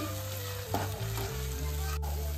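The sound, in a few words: ginger garlic paste and spices being stir-fried in a pan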